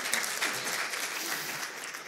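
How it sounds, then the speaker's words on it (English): Audience applause fills a hall at the Katalys 10th anniversary celebration in May 2023: a dense, steady wash of many hands clapping at once, loud and continuous for about two seconds with no talk over it. "You can applaud."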